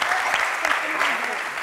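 Audience applause in a studio at a televised show, a dense burst of clapping throughout, with a voice faintly audible under it.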